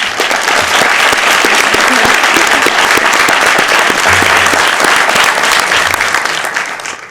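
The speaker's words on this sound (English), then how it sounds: "I'd love to have everyone give a big round of applause" A city council chamber audience gives a sustained round of applause for local CIF state champions, dense steady clapping filling the room for about seven seconds before tapering off.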